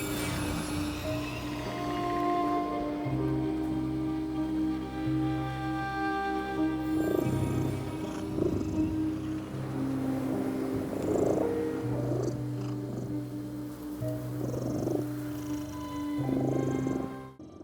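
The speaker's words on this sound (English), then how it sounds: "And we hear a cat purring." Steady, soft purring from a cat in the video game The Midnight Walk, a rumbling loop that continues throughout with faint ambient tones beneath it and no talk.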